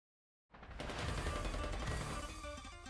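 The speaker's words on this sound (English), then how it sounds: "Red Hood rushes toward the sound of gunfire." Video game gunfire from Nikke bursts in after a half-second of silence, a dense, sustained rattle of rapid shots from several weapons.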